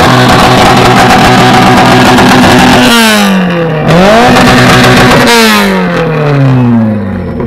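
A Mitsubishi car engine revs hard at an auto party drift event, loud and close, with repeated rising and falling revs and sharp throttle blips as the pitch climbs and drops several times.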